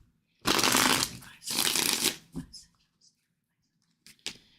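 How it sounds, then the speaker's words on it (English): Tarot cards riffle-shuffled in two long, loud bursts, followed by a few softer card slaps and flicks; a voice is briefly heard. "Let's shuffle really good."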